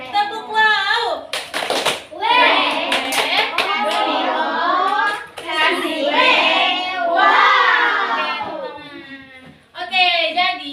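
A classroom clapping chant called "tepuk wow" from a fifth-grade class: a quick burst of sharp hand claps is followed by children's voices chanting together in rhythm, close and fairly loud.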